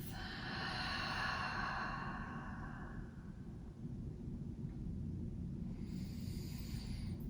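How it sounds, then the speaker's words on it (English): Deep, slow breaths during a lower-body yoga stretch for runners, drawn in through the nose and let out through the mouth, with one long airy exhale followed by a softer inhale, close and unaccompanied by talk. "Keep breathing just like that."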